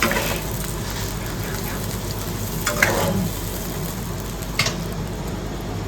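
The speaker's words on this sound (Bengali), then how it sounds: "আমি যে সর্ষের পেস্টটা করে রেখেছিলাম ওটা আমি এর মধ্যে দিয়ে দিয়েছি।" Mustard paste frying in oil with hilsa fish in a pan makes a continuous close sizzle and bubbling hiss, with a couple of brief louder spatters or stirring knocks.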